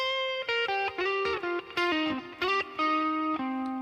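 An electric guitar with distortion and effects plays a short lick of bending single notes mixed with double stops, bright and sustained, up close with no voice.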